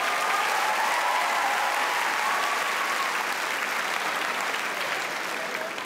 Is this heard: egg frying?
no